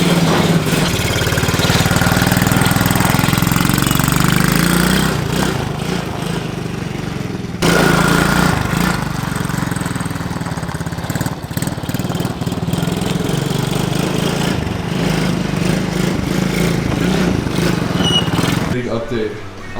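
Small engine with a new carburetor and fuel filter runs steadily nearby, a continuous droning idle that lasts throughout with brief dips.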